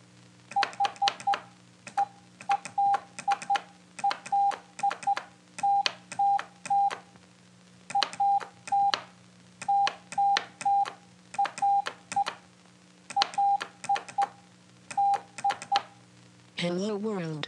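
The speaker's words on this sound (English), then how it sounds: "Morse code was a method of transmitting textual information as a series of on-off tones" Short, clear on-off tones beep in clusters of dots and dashes, a Morse code message spelling "Hello world" tapped out in regular groups, loud and alone against a faint steady hum.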